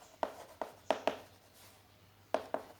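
Chalk or marker strikes a classroom board during a chemistry lesson, six sharp taps in two irregular clusters, close and clear with no talk.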